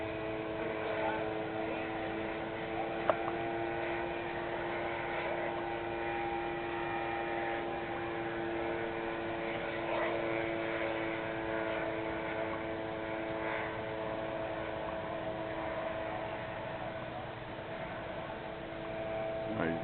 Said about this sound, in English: You can hear the motor winding down.